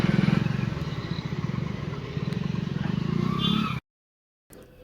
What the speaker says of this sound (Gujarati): આપણી બાઇક રેડી થઈ ગઈ છે, જાય છે હવે ટેસ્ટિંગ માટે.